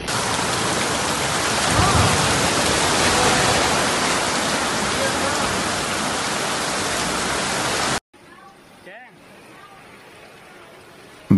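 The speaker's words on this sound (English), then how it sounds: "severe storms swept through the center of Catalonia, causing torrential rain, hurricane-force winds and chaos in Barcelona" Torrential rain from a severe Catalonian thunderstorm pounds down in Barcelona as a dense, loud, steady roar, broken off sharply near the end by a much quieter stretch.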